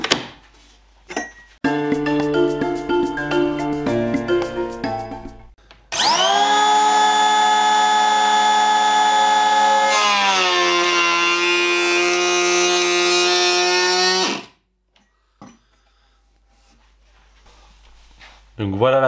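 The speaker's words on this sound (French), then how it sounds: "je vais faire un début de rabotage, m'arrêter à 2 mm" A Makita DKP180 cordless planer shaves a shallow pass of about 2 mm off a wooden board. After some shorter bursts, a loud, close motor whine runs steadily for several seconds and then cuts off abruptly.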